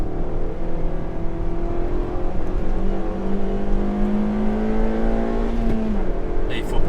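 A Suzuki Swift Sport 136 engine revs hard, its loud droning pitch climbing steadily for a few seconds before abruptly dropping back, heard close throughout.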